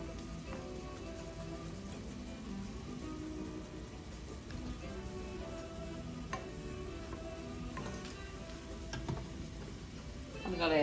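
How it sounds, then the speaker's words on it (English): Italian seasoning and oregano fry in a hot pan for homemade ravioli, giving a soft, steady sizzle with faint crackles. A voice talks over it. "as you can see, it's starting to fry"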